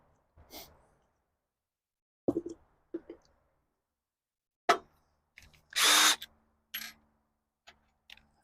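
A power drill drives screws into a greenhouse door in short separate whirring bursts, one longer, with clicks and handling knocks between them, close by and no talking.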